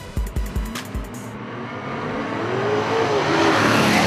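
Super Saloon race cars roar away from a standing start at a speedway, a few sharp engine bursts giving way to a loud, building wall of engine noise as the pack accelerates together.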